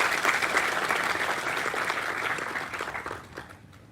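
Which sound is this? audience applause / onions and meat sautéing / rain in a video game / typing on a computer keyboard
audience applause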